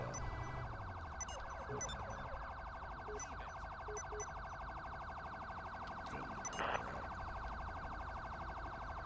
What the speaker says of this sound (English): Love this truck to death, but it's got the most annoying siren on it.